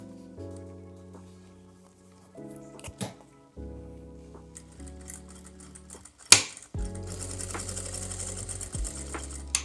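A sewing machine stitches along a fabric edge in short bursts of fast, rhythmic clatter, stopping and restarting, quiet and close, with no voices.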